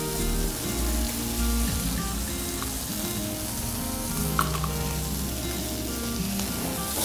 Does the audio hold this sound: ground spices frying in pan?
yes